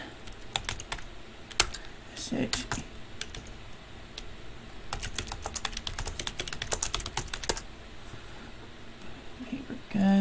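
Rapid bursts of typing clatter on a computer keyboard during an online search, with irregular flurries of keystrokes and pauses between them and a quiet voice murmuring now and then.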